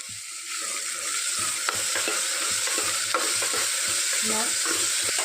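Chopped onion fries in a pan, a steady loud sizzle with a quick rhythmic series of scraping strokes as a spatula stirs it, close and with no voices.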